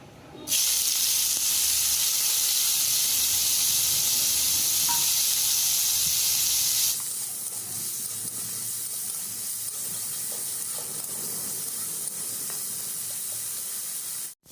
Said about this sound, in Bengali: কড়াই একটু তেল দিয়ে চিংড়ি মাছটাকে ভেজে নেবো